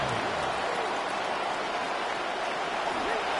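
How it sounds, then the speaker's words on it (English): Simulated stadium crowd in a Madden NFL football game, Colts versus Steelers, a dense, steady roar with no clear breaks. "This crowd turning up the decibel level."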